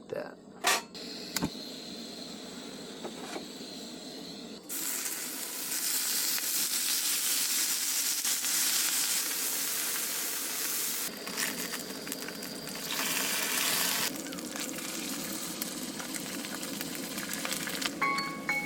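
Bacon frying in a pan on a 5-inch Firebox stove outdoors, a steady broad sizzle that swells and holds loud for long stretches, with a few sharp clicks early on.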